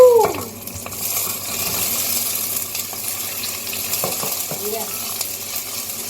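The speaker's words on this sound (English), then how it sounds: "So just keep mixing the onion until it's a little bit brown." Onion stir-fries in a pan for sweet and sour chicken, giving a steady close sizzle with occasional scrapes and clinks of stirring, and a voice briefly speaks over it at the start.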